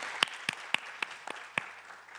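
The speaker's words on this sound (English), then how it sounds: "Let's please give him a very warm round of applause for joining us." Sparse, faint clapping from a small audience at the IAEA Scientific Forum for a departing minister: about half a dozen separate claps spaced irregularly over a couple of seconds, quiet and distant.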